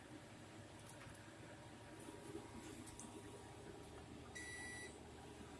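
A Solinba 4 kW solar inverter sounds its alarm, giving faint, brief beeps early on and then one longer high beep near the end over low background hum.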